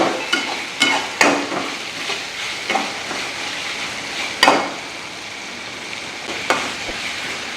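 Ginger sizzles with curry leaves in a hot pan for a village-style duck roast, a steady crackling fry broken by sharp scrapes and knocks as it is stirred every second or so.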